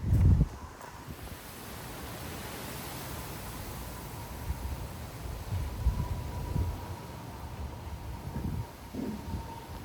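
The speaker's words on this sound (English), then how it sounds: "These gusts are pretty strong." Strong southerly wind gusts of around 30 to 40 mph on a hot day in Frisco, Texas, buffet the microphone as a steady, loud rushing roar with rustling that swells and eases, continuous throughout with no voices.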